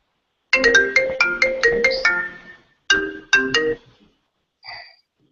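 A mobile phone ringtone plays a loud, close run of bright melodic chimes, then a shorter repeat after a brief pause, and a faint final tone trails off.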